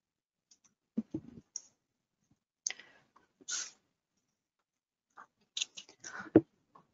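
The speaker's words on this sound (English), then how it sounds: "I choose the point, and I click on OK" Computer mouse clicks, a few sharp short taps spaced irregularly in a quiet room, with a small cluster of quick clicks near the end.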